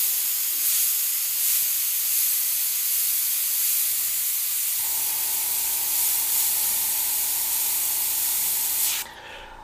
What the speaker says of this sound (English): This is just a standard airbrush.